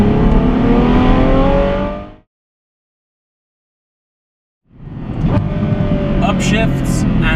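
Ferrari F12 Berlinetta accelerating hard, its engine note climbing in loud bursts with quick gearbox upshifts and downshifts, cut by a gap of silence midway before the roar resumes.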